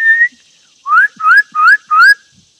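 A person whistles in imitation of a bird: one steady note, then four rising chirp-like whistles in an even rhythm, close and loud, with no talking.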